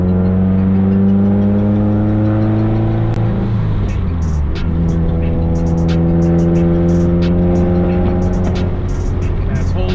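A 2018 Subaru WRX STI fitted with an oil cooler is driven, its engine droning loudly and steadily from inside the car, dipping around a gear change before pulling again, with brief clicks and rattles on top.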